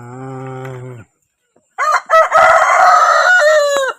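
Rhode Island Red chickens in a farmyard crow loudly nearby, with one sustained call followed after a short pause by overlapping crowing and clucking.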